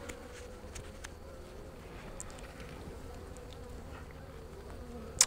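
Honey bees buzz in a low, steady drone during a beehive inspection outdoors, faint and continuous with occasional closer passes and a small click at the end.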